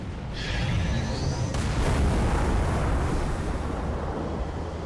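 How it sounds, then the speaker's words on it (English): An explosion from a Phantom being blown up in Halo 3 on Legendary: a loud, sustained booming roar that swells and rumbles steadily for several seconds with a brief hiss near the start. "I'm gonna blow up this Phantom."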